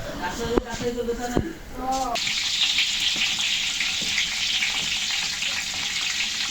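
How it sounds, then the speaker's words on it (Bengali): Khichuri cooks in a pot, giving a steady bright sizzling hiss that starts after a short stretch of speech and clattering, then carries on evenly and close. "এখন দেখতে পাচ্ছেন আমাদের খিচুড়ি রান্না চলছে"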